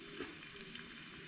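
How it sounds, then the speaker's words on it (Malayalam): Small chopped coconut pieces frying in hot oil until brown, a steady soft sizzle with light stirring, ending in a sudden louder clatter. "അത് നമ്മൾ ചുമക്ക ബ്രൗൺ കളറായിട്ട് വറുത്തെടുക്കണം"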